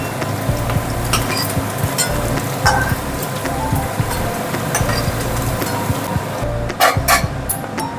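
Salted fried taro (gathi kochu) lifted from a hot pan into a bowl: continuous close sizzling with intermittent utensil knocks and scrapes, plus a few sharper clinks near the end; no one speaks.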